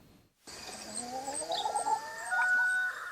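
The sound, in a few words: cage-free hens clucking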